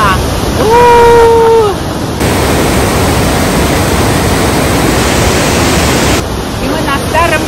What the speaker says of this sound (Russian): Только звука от силы воды здесь.